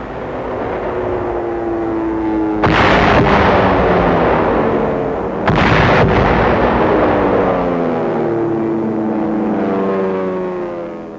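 Heavy bombing and artillery explosions pound the fort walls at Mandalay in 1945 as low-flying B-25 bombers attack, with loud droning aircraft engines throughout and two sharp, massive blasts bursting over the roar.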